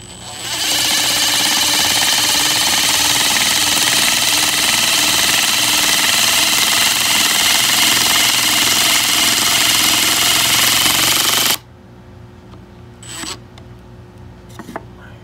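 A Makita DTS141 oil-pulse impact driver runs at its slowest level 1 setting with a loud, steady, close mechanical whir for about eleven seconds, then cuts off abruptly, leaving quiet with a few faint clicks.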